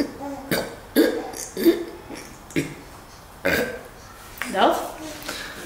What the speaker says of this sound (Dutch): En dan laat hij in één keer een zieke boer.